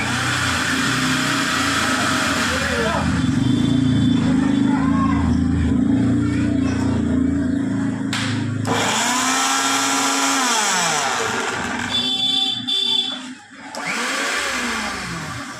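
A repaired Crompton mixer grinder runs with a loud, steady motor whine and grinding roar, with a few brief changes in pitch and load near the end.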